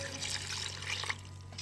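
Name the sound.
glass of water poured into kachnar qeema pot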